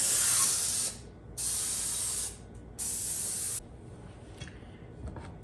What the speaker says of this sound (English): I think I'm just gonna give the tin a quick spray with cooking spray